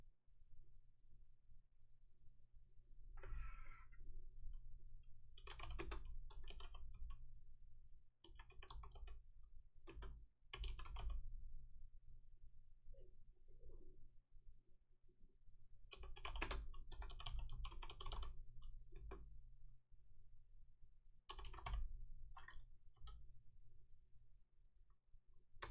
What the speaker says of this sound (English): I'm going to type something up real fast.